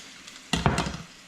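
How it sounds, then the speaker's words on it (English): Onion and chicken frying in a pan for jambalaya, a sudden close burst of sizzling and stirring that swells for about half a second, then settles back to a quiet hiss. "Got the onion and the chicken, just frying up."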